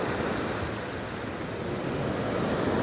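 Sea waves wash in a continuous, steady roar of surf with a breathy, wind-like hiss, holding an even level throughout with no breaks and no voices.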